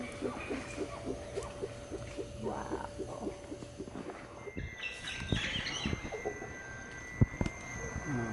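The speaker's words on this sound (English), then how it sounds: "There's so many cool sounds of birds and frogs and thunder." Wild birds call and chirp in Costa Rican forest near Cabuya, a rhythmic run of short tweets followed by scattered calls over steady ambient background, fairly faint, with a few sharp clicks and knocks.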